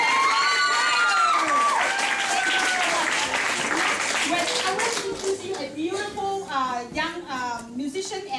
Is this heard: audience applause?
yes